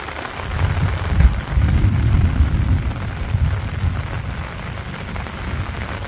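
Steady rain falls over a Bangladeshi village in the rainy season, a dense continuous wash with a low rumbling undertone, fairly close and unbroken by talk.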